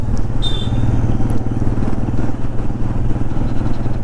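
Steady, loud engine drone and road rumble from a motorcycle ridden along a road to a temple, continuous throughout with a brief high whine near the start and no talk.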